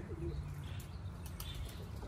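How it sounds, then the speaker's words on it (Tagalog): A quick flurry of pigeon wings flapping, faint and somewhat distant, with a low background rumble and no speech. "Ayun ang mga ibon natin."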